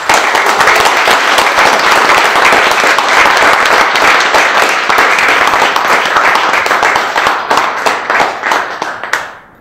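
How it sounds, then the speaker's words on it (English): An audience at an evening panel talk gives the panelists a loud, sustained round of applause, dense clapping that thins into scattered claps and fades out at the end. "Just wanted to ask everyone to give them a big round of applause."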